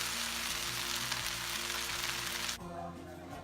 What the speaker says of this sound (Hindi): मैं अच्छी तरीके से मिक्स करके फ्राई करके इसको डिश आउट करूँगी।